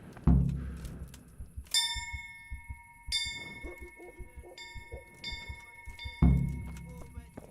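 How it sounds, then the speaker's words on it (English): A bell struck several times in the medieval video game Kingdom Come: Deliverance, each strike ringing out with a clear metallic tone that hangs and fades, amid footsteps and soft thuds. "Let's go ring a bell."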